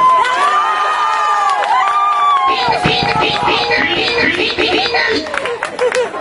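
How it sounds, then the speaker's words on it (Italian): A live audience cheers and whoops at a small outdoor punk gig at a kiosk bar in Iglesias, Sardinia, as band members are introduced. Loud, dense crowd shouting and whistles continue throughout, with bursts of clapping building in the second half. "un applauso"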